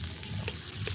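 Chopped onion, ginger, green chili and garlic hit hot oil in a pan for vuna khichuri, giving a brief close sizzle with a few soft stirring scrapes.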